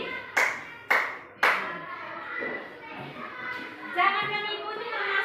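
Three sharp hand claps from a teacher in a school classroom, evenly spaced and close, followed by children chattering in the background.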